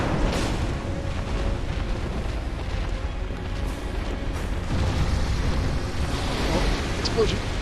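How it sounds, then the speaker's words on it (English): Explosions in the Bloodborne video game, dense rumbling booms and bursts filling a loud, noisy scene, with a person speaking over it. "Oh, explosion!"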